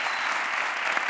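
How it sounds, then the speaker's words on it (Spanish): Studio audience at a late-night TV comedy show applauds for Jaime Caravaca in a short, dense, steady burst of clapping, loud and even throughout. "Un aplauso para Jaime Caravaca"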